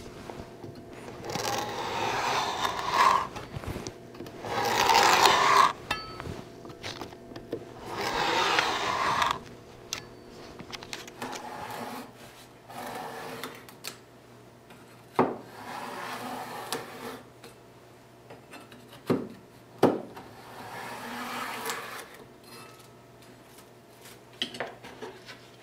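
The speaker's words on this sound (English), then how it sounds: "You can tell when it's cutting through the veneer. You can hear it." Knife slicing through thin wood veneer while making a display cabinet gives soft scraping strokes in irregular bursts, fainter short ticks and taps following, close and quiet.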